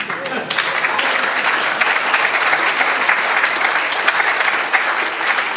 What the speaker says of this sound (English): I will take that applause as being for Cyrus